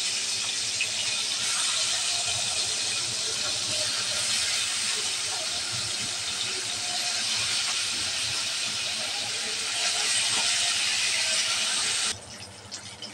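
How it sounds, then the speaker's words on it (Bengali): Pabda fish frying in a pan of hot oil, a steady, loud, close sizzle and hiss that holds unbroken for about twelve seconds, then drops away abruptly near the end. "তেল গরম হয়ে গেছে, দিয়ে দিব মাছ"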